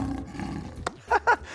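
A lion's roar, a short growling build followed by two loud, close bursts in quick succession, standing alone with no talk.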